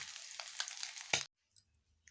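Egg pakoras fry in hot oil, giving a steady broadband sizzle for just over a second before a brief louder burst and a sudden stop, followed by near silence with faint low rumbles.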